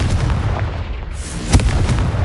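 A Confringo spell blast from Hogwarts Legacy, loud booming explosive bursts with a sharp impact near the middle, layered over dense game effects and music.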